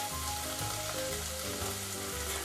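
Tomato sauce ingredients frying in a pan, a steady close sizzle that holds loud and even throughout with no talking.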